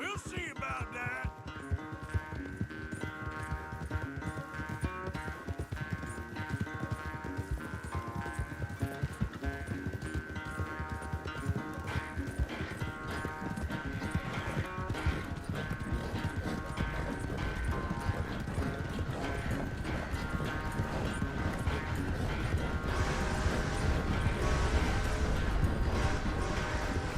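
Horses gallop in a race through the open country of Red Dead Redemption, a steady drumming of hooves under a continuous music score, with a brief snort or whinny and some talk between riders.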